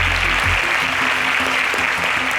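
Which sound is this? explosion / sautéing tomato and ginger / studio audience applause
studio audience applause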